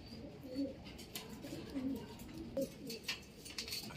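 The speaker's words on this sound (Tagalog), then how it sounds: "Ito yung ibon ni Boss Ray." Soft, low racing pigeon coos repeat every second or so, fairly close, over a light hiss of background noise.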